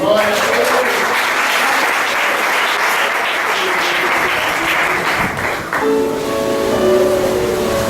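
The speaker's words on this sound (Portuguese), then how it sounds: "A igreja pode aplaudir o Senhor?" Church congregation applauding during a service, a dense sustained wash of many hands clapping at steady loudness, fading into music and voices near the end.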